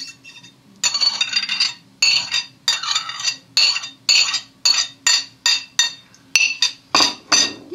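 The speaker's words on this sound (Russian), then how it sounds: "Сейчас перемешаю, посмотрим." A utensil clinks and scrapes against a bowl in a quick, irregular rhythm of strokes, close and fairly loud, with no talking.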